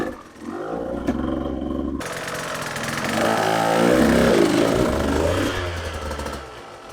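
A dirt bike engine climbs a wide loading ramp. It idles and putters, then swells into a louder revving roar as the bike powers up, and eases off near the top.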